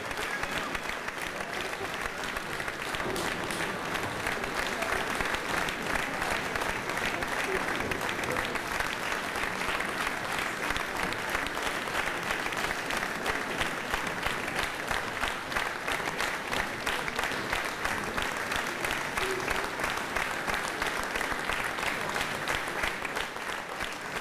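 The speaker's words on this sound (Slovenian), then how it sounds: "aplavz govori" Long, even applause from a concert audience at a live wind orchestra performance, a dense rapid clatter of many hands holding steady throughout, heard from within the hall.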